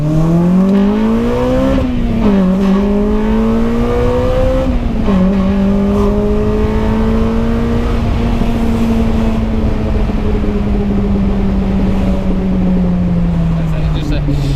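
Honda Civic EP3 Type R with a decat pipe and aftermarket exhaust, heard from inside while driving: a steady engine drone rises and falls through gear changes, loud and continuous, with exhaust knocking mixed into the rumble.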